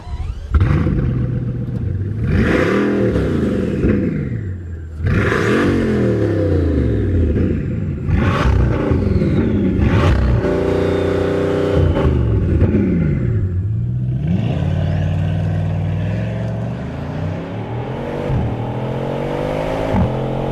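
A Bugatti Chiron's quad-turbo engine revs repeatedly, rising and falling in deep, loud sweeps with whirring turbo tones and rumbling, close and continuous over twenty seconds without talking.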